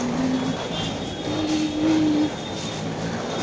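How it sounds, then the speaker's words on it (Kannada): A train at Mysore railway station, heard as a steady broadband rumble with brief tonal squeals from the wheels or brakes, moderately loud and continuous, with no talking. "ನಮ್ಮ ಮೈಸೂರಿನ ರೈಲ್ವೆ ಸ್ಟೇಷನ್ ಇದಾಗಿದೆ."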